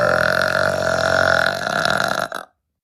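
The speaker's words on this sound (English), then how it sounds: "I'll burp again." One loud, sustained, buzzy burp lasting about two and a half seconds, ending abruptly with a short tail before silence.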